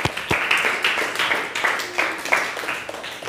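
Classroom audience clapping after a student presentation, a short round of loose, uneven handclaps of moderate loudness from a small group.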